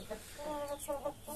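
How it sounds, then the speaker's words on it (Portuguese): Índio Gigante chickens cluck softly nearby in short, repeated calls, fairly faint against light background noise. "Com as galinhas que eu usei o ano passado."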